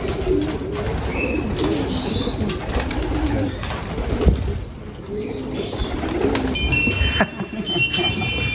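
Pigeons in a breeding loft coo softly and repeatedly against a busy background of rustling and flutters, with a few higher chirps and a mechanical rumble that swells and fades.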